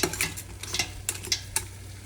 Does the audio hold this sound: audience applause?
no